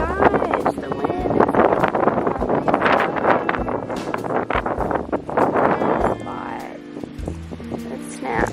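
Strong wind gusts roar across a backyard vegetable garden where watermelon plants grow, buffeting the microphone in loud rushing waves, with the wind calming somewhat near the end.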